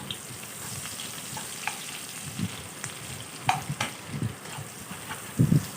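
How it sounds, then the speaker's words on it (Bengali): Chopped onions fry in leftover fish-frying oil, a steady close sizzle broken by occasional stirring scrapes and soft clatters, with a louder burst of crackle near the end. "পেঁয়াজগুলোকে নেড়ে চেড়ে কিছুক্ষণ ভেজে নিতে হবে যাতে পেঁয়াজগুলো একটু নরম হয়ে যায়"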